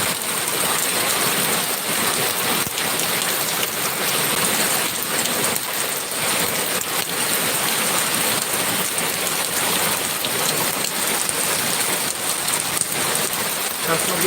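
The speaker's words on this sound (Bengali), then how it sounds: "বৃষ্টির টুকটাক শব্দ কিংবা বৃষ্টির আওয়াজ" Rain falls steadily outside on a wet morning, a loud, even wash of drops hitting surfaces nearby, continuous throughout with no voices over it.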